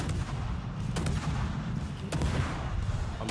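Heavy ship guns fire at a Shimakaze destroyer in World of Warships, sharp booming salvos at about one second and two seconds over continuous low battle rumble, with no talking.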